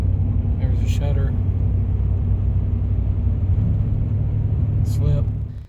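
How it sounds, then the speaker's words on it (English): A 2014 Chevrolet Silverado pickup with a failing GM 6-speed transmission drones steadily from inside the cab, its engine rumbling at a constant load while the transmission slips, with faint brief clicks near the start and end. "Every time that tachometer goes up, that's your transmission slipping."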